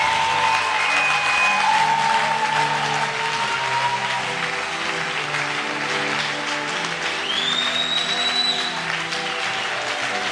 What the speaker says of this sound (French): On m'aide à acclamer Jésus.